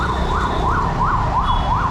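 Ambulance siren wailing in a steady rising-and-falling cycle, loud and close amid road traffic, with a continuous low rumble of vehicles underneath.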